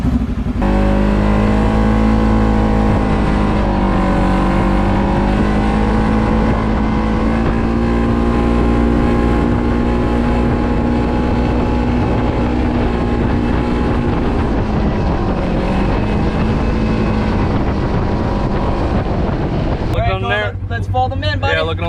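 A Polaris RZR side-by-side fitted with new side mirrors pulls away, its engine droning loud and steady throughout with wind buffeting the microphone, before a sharp change near the end.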